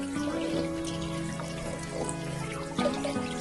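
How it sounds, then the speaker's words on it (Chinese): Cabbage leaves swished and rinsed in a basin of clean water, with soft close sloshes and trickles and a brief splash near the end. "掰好之后放入清水里清洗干净。"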